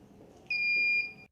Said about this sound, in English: our buzzer to make a warning sound like this.